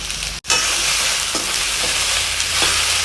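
Sliced okra deep-frying in oil in a pan for a palya dish gives a loud, continuous close-up sizzle, cut by a brief dropout near the start, with occasional stirring scrapes.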